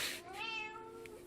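A cat lets out one close meow that climbs and stretches out, preceded by a short scuffling noise and followed by a faint chirp.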